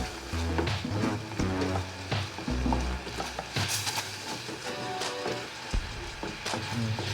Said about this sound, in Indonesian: Nah, ini mendidih, tetap kita aduk-aduk sampai gula merahnya betul-betul larut.